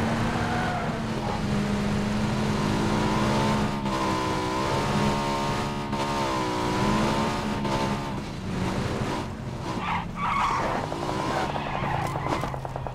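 A car driven in the battle royale video game PUBG: a loud, continuous engine drone rises and falls with revving, and tires skid and squeal throughout, with no talking.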